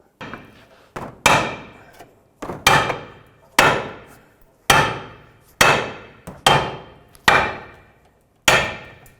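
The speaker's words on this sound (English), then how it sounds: "as I hammer down on the control arm" Nine loud metallic hammer blows ring out at a steady, unhurried pace on the control arm of a 2003-2007 Nissan Murano, driving out a ball joint, each strike sharp and close, decaying before the next.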